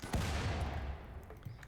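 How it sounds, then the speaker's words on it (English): Explosion in the video game RimWorld: one sharp boom followed by a rumbling decay, with faint battle sounds after it. "Okay, another explosion goes off."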